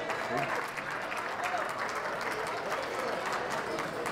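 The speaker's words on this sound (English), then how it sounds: "Give them a great round of applause." A crowd applauds honor students at a youth football league academic awards event, a steady, moderately faint round of clapping with voices mixed in.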